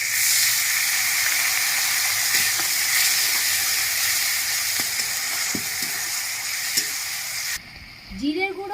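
Garlic and ginger paste with chopped tomato and a splash of water sizzling loudly in a pan, a dense, close, steady fry with faint stirring taps, ending abruptly in a short burst of clatter and rising squeaky tones.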